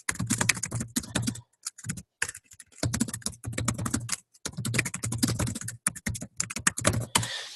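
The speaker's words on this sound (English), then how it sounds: "I'm typing these for you guys too." Keys tapped on a computer keyboard in quick clustered runs broken by short pauses, close and clear, with no voice over the clatter.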